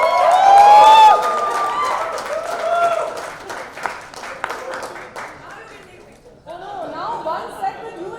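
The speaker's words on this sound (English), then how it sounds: "put your hands together for the famous Indian playback singer" Audience applause and chatter at a launch press event as a famous Indian playback singer is welcomed, with an announcer's voice over it; loud crowd noise that dips briefly near the end, then resumes.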